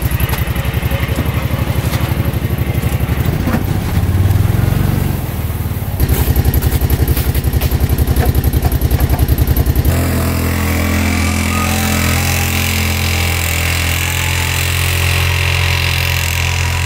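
A cheap dealership-surrendered UTV with a dump bed runs its engine close by, a loud, steady mechanical chug with rhythmic pulsing that shifts in tone partway through, with no talking.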